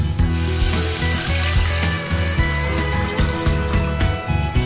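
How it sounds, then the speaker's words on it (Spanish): Water is poured into a hot pot over a lit fire while making Russian salad, a loud steady sizzle and bubbling hiss that carries on unbroken, close and without talk. "Vamos a echarle tres tazas de agua."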